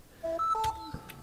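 Mobile phone notification, a short sequence of a few clear electronic tones in quick succession, fairly faint, heard over quiet room noise.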